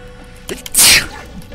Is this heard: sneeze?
yes